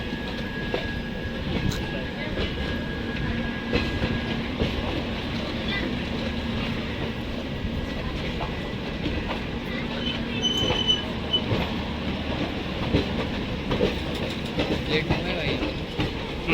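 A train rolls toward Delhi station, steady rumble and rhythmic wheel clatter filling the whole stretch with occasional squeal, loud and close from onboard; voices talk faintly underneath.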